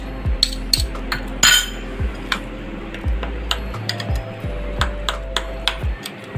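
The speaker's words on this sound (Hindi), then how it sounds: "सारे मसालों को एक साथ मैं मिक्स करूँगी।" Spices mixed with soy sauce in a bowl for steam-roasted mutton leg: a spoon clinks and taps against the bowl again and again in an uneven rhythm, close and fairly loud.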